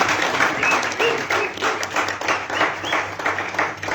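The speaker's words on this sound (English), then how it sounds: "Another round of applause for her." Applause from an audience at a youth peace and tolerance event in Zimbabwe, a steady wash of many hands clapping at moderate loudness throughout, with no voices over it.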